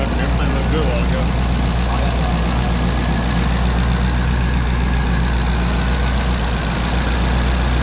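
A twin turbo Mustang GT350R V8 idles loud and close with a steady, continuous rumble that never changes pace, and people talk over it.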